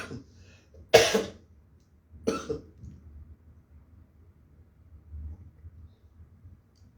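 Two sharp coughs from a woman during a live finance talk, the first at about one second and the second roughly a second and a half later, close and loud over a quiet background.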